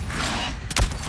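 A single loud, close shotgun blast fires in the video game Avatar: Frontiers of Pandora, a sharp punch near the end of a brief moment of game ambience.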